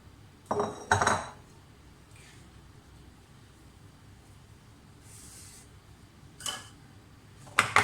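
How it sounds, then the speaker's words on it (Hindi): A 6-inch cake pan holding chocolate sponge batter is tapped against a surface, giving a pair of sharp metallic knocks near the start and a few more later, close and clear against a quiet kitchen. "टैप ज़रूर करें ताकि जो इसमें से एयर वगैरह है वो निकल जाए।"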